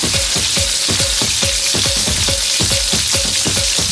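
Cumin seeds sizzling in oil with browned onions in a pan for Swahili spicy pilau, a loud steady close fry with a repeating rhythmic pattern of stirring strokes, no talking.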